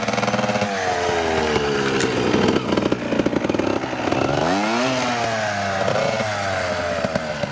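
A Beta EVO 80 Jr youth trials motorcycle engine revs hard in low first gear and winds up quickly, pitch climbing and dropping in sharp bursts, loud and close with a raspy, buzzing tone.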